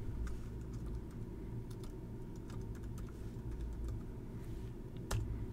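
Quick, light keystrokes on a computer keyboard as a new panel layout name is typed in Maya, soft scattered clicks over a steady low room hum, with no voices.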